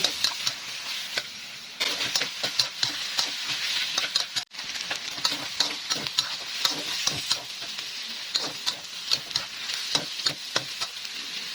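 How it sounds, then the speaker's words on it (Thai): Steady sizzling and popping of chicken skin frying in a pan, with scattered crackles and occasional stirring scrapes. "ให้ร้อนใส่หนังไก่ลงไปเจียว"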